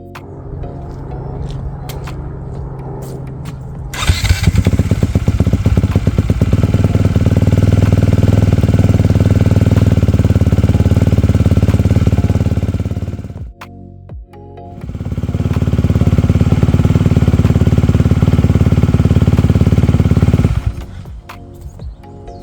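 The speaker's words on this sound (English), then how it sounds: "the bike is nice and warm now. It's been running for a few minutes." Honda CRF250R four-stroke motocross bike engine running steadily to warm up, a loud, close, rough drone that cuts out briefly near the middle before resuming, then stops near the end.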